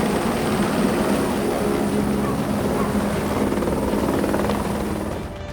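A rescue helicopter works over a flood-stricken village cut off by water, its rotor drone loud, steady and continuous throughout with no speech, easing slightly at the very end.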